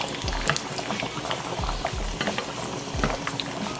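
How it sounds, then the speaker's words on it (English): Whole chiles sizzle and bubble steadily in hot oil in a pan, a dense crackling fry with scattered pops and a few soft low thumps. "So you're gonna do the same to your whole chiles. So you're pretty much just wetting the chiles in the oil."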